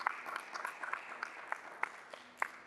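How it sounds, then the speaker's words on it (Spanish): Church congregation applauding the Lord during a Spanish-language Bible seminar, a soft, distant patter of scattered claps lasting a few seconds. "¿Cuánto le dan un fuerte aplauso al Señor, por favor?"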